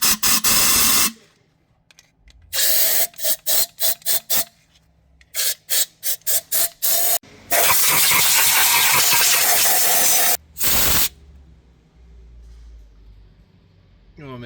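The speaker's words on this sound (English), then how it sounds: "I also recommend taking an air gun and sticking it into these ports and blow them all out." Compressed-air gun blasts into the intake ports of a Ram 5.7L Hemi engine with the manifold removed, a series of loud hissing bursts, short rapid puffs then a long sustained blast and a final short one.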